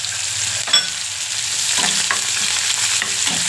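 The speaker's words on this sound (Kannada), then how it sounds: "ಎಣ್ಣೆಗೆ ಇಟ್ಟಿದ್ದೀನಿ, ಒಗ್ಗರಣೆಗೆ ಹಾಕೋಣ ಬನ್ನಿ" Onion, green chili and coriander dropped into hot oil for tempering, giving a loud close sizzle with several sharp clatters of the spoon against the pan, no speech.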